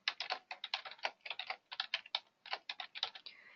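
Rapid, uneven keystrokes on a computer keyboard, close and clear, coming in short bursts with brief pauses and no talking.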